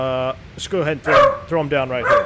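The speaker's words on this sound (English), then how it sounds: "Oh, boy, that's my dog." A pet dog trapped in a room yips and barks in short bursts close by, mixed in with someone talking over it.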